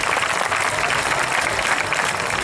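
Audience applause at a Hindi kavi sammelan poetry gathering, a sustained burst of many hands clapping at once, dense and even from start to finish, with no voices over it.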